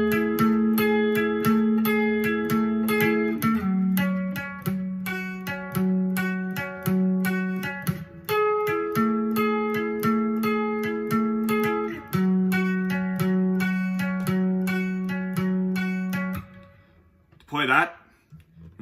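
A guitar lead part from a song, played as a steady run of bright plucked notes in a repeating rhythmic pattern, clear and close, ending with a short squeak of fingers sliding on the strings.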